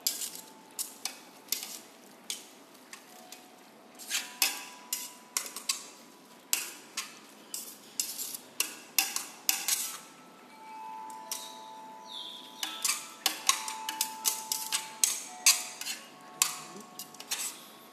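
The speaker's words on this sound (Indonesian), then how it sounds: "Saya tinggal kasih kecap manis. Tinggal aduk-aduk." Fried noodles being stirred after sweet soy sauce is added, with a utensil clattering and scraping against a pan in irregular clicks and taps throughout, close and moderately loud, at a live cooking demonstration.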